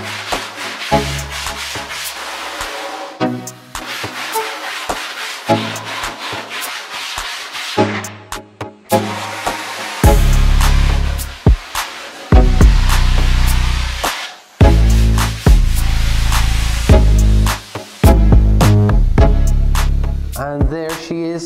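A CNC-cut foam surfboard blank being shaped, with repeated bursts of rubbing and sanding strokes, some short and scratchy, others long and heavy, separated by brief pauses, loud and close.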